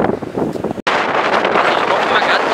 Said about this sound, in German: Der Wind zieht einem hier wirklich die Rotze aus der Nase raus.